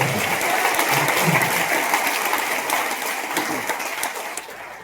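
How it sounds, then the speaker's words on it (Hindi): An indoor audience breaks into loud, sustained applause, a dense wash of clapping that stays strong for several seconds and then gradually thins and fades. "कब तालियां बजा लो"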